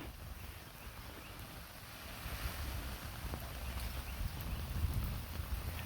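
Water from a garden hose spraying onto a backyard tent, a faint, steady broadband hiss with low rumble that slightly strengthens toward the end, alone.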